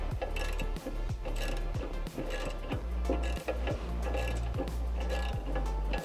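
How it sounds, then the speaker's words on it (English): Socket ratchet with a 9/16 socket tightening carriage bolts on a Toyota Tacoma lower control arm skid plate: a steady run of rapid clicking pawl strokes, close and loud, with no talking. "now we're going to tighten down our carriage bolts using the 9/16 socket and a wrench"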